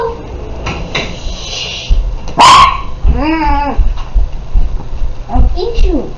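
A dog barks a few times, loud and close, with yips and a short howling call, among people talking indoors and a knock like a cupboard closing.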